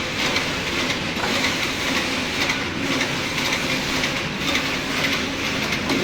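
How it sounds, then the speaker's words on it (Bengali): A ganji knitwear machine runs at speed 70, giving a loud, steady, continuous mechanical clatter and whir that holds for the whole stretch without pause. "মেশিনের নাম হলো গাঞ্জি মেশিন।"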